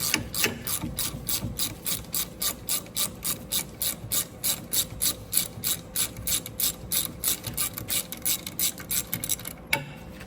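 A ratchet wrench turning a bolt on the front brake of an Audi A5, a rapid even run of close, crisp clicking pawl strokes repeating steadily for about ten seconds.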